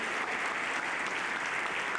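A congregation applauding during a church service, a continuous even wash of clapping from a large crowd, fairly loud and unbroken, with no talk over it.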